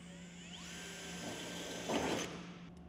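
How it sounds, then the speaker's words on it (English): A power drill bores rivet holes through Lysaght Baroque steel roof sheeting at a ridge and barge junction, a steady high whine rising in pitch that swells briefly louder near the end, heard alone and close. "At the ridge barge junctions, mark off and drill 40mm rivet centres."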